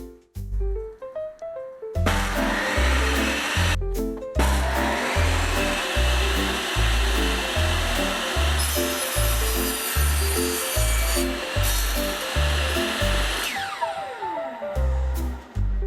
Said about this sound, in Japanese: スイッチを入れてノコバを回転させ、材料をゆっくり押し出していきます。